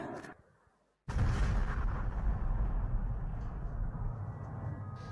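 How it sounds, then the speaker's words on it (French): Huge explosions from missile strikes hitting a warehouse at an industrial site in Ukraine: after a brief burst and a second of near silence, a loud, sustained roaring rumble erupts and keeps thundering close by to the end. "Huge explosions."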